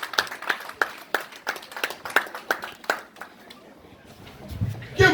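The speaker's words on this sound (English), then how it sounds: "Give another hand clap." A crowd claps hands in applause at an Old Settlers remembrance gathering, a dense run of sharp claps that thins out and fades toward the end.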